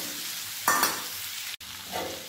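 Eggplant pieces with turmeric frying in a pan, a close, steady sizzle broken by two bursts of stirring scrape, one near the start and a softer one toward the end, with a brief clack in between and no voices.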